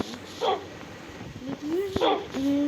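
Minecraft dogs yipping and barking in a video game, several short bursts close by, mixed with a person talking over them.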